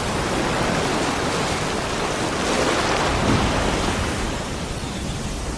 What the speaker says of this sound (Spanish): Cada movimiento de las ballenas crea ondas gigantes en la superficie del mar.